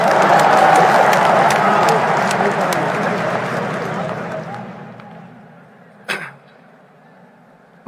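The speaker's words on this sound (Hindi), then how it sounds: "ठोको ताली" A crowd claps and cheers loudly at a politician's speech event, the dense applause gradually fading over several seconds before a single sharp knock near the end.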